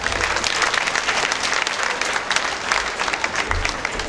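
An audience breaks into steady applause at a dance marathon event, dense clapping that holds at an even level for several seconds, close and full, with faint voices mixed in.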